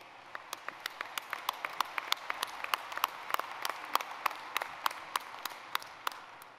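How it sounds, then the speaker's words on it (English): A police convention audience applauds with a soft, even patter of many hands, while sharp, distinct individual claps stand out rhythmically on top. The sound is fairly quiet and distant, with no talk over it. "And it's nice of y'all to applaud"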